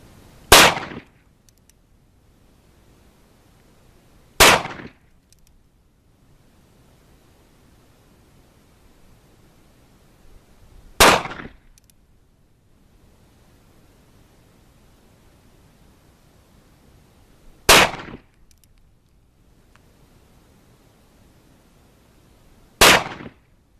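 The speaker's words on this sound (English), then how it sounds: "It's a 22 Magnum, and you can hear the difference." Five sharp, loud gunshots from an NAA Earl revolver firing .22 Magnum rounds, spaced several seconds apart with quiet gaps between each crack.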